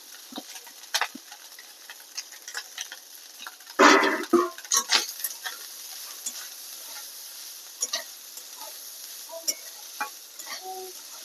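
Cooked rice is tipped into a pan of fried vegetables for Bengali fried rice. Scattered spatula clicks and scrapes sound over a faint sizzle, with a denser clattering burst a few seconds in.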